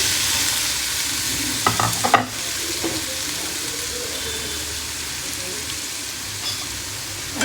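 Chopped tomatoes fry in a pan for a South Indian red chutney, a steady broadband sizzle with a few clinks and scrapes of stirring near the start.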